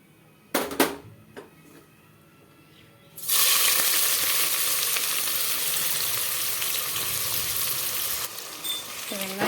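Sliced big onions hit hot rice bran oil with a sudden loud sizzle after a few quiet knocks, the frying hiss staying strong and steady to the end.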